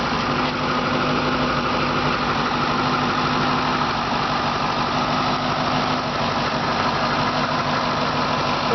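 A 2006 Ford Mustang GT with a 4.6 liter V8 idles steadily, a constant close, even rumble with no talking.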